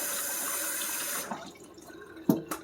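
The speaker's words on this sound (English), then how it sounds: "let me rinse my hands off again" Hands are rinsed under a running tap, a steady close splash of water that stops partway through, followed by a couple of sharp drips and knocks in a quieter room.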